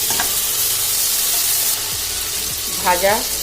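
Eggplant cooks in a pan with a splash of water for a dried-fish chochori with egg and potato, a close, steady hissing sizzle with a brief faint voice-like sound near the end.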